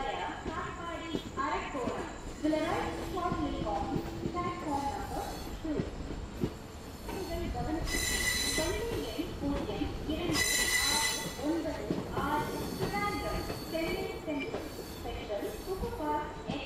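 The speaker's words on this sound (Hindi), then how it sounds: "तो गाइस इस ट्रेन को क्रॉस होते हुए देखते हैं" A passenger express train runs past on rails close by, wheels squealing and rumbling continuously with bright metallic screeches, while someone talks over the noise.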